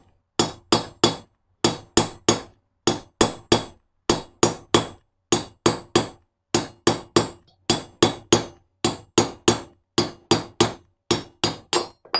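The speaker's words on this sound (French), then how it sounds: "Je pense que le mieux c'est de taper au marteau doucement." A hammer gently taps stainless steel valve guides into an engine being reassembled, giving a steady run of sharp metallic knocks in pairs and triples, close and fairly loud, with no voices.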